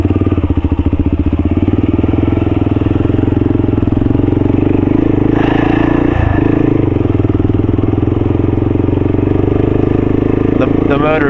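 Kawasaki KLR 250 dual-sport motorcycle engine droning loud and steady while riding, with a rhythmic low thrum that holds throughout and a voice briefly heard over it.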